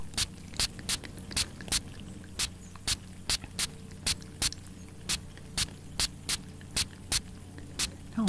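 Scented oil spritzed onto hair from a pump sprayer: about twenty short, sharp puffs at a steady, even rhythm, close to the microphone and heard alone.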